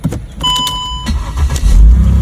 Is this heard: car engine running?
yes